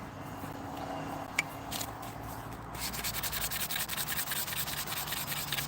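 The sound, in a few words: sanding a wooden piece by hand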